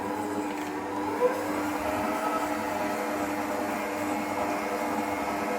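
A white Anko bench mixer runs with a continuous, even motor whir and a steady hum, fairly close and unchanging, with no talking.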